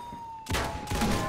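Two loud video game gunshots ring out in quick succession after a brief quiet stretch. Each blast is sharp and booming, with a short ringing tail.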